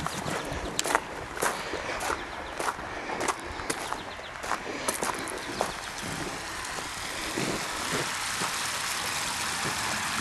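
A pump runs steadily just after starting, giving a continuous broadband mechanical noise with irregular clicking knocks that settle into an even drone.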